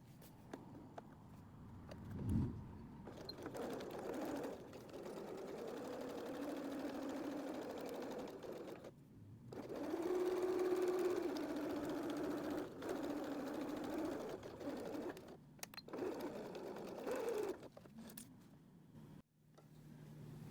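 A sewing machine hums quietly in several short runs, stitching beside fusible fleece on a small fabric glasses case, with brief handling noises between passes.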